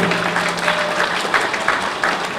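An audience at a mayoral candidates forum breaks into brief applause, a fairly close and steady patter of clapping with no talk over it.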